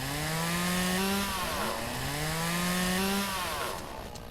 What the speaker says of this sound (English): Put the chainsaw away before you jump on a rock.